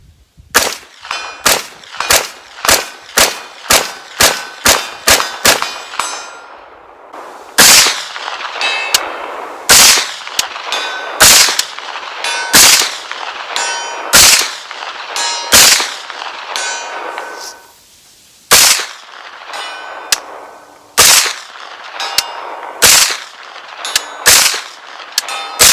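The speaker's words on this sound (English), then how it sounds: "Let's get busy, bang on some steel at some distance." PSA AR-V 9mm pistol firing Wolf ammunition at steel targets at distance: a rapid opening string of about ten sharp shots, each with a ringing clang, then slower paced shots with echoing metallic rings, loud and close.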